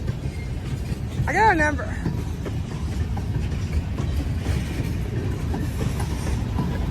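A freight train led by an SD9 locomotive and hauling two-bay hopper cars rolls past close by as a steady low rumble and rattle, with a brief squeal early on and a voice over the passing cars.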